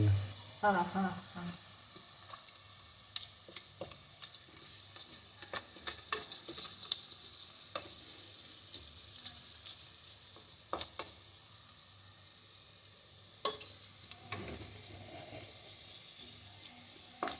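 Onions fry slowly over a low gas flame, a soft, steady sizzle with scattered stirring scrapes and clicks throughout, fairly quiet and close.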